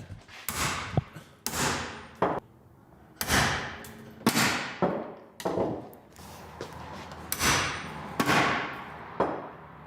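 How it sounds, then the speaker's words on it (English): Repeated loud metallic bangs as a camper van with a part bolted onto it is struck, about eight sharp impacts at an uneven rhythm, each with a short ringing decay, close up and with no talking. "I hit the van."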